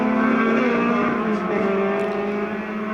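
A Lotus 26R race car with a 1,500 cc engine running at speed on a circuit, a loud sustained harmonic engine note that shifts pitch slightly as it holds revs, with a faint commentary voice underneath.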